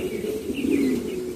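Snow-white homing pigeons in a loft coo close by, a steady low throaty burble with a few faint chirps over it.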